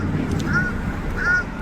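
A crow giving two drawn-out, quack-like calls that sound almost like a duck, fairly close and spaced about half a second apart over steady outdoor background noise, heard in a small town.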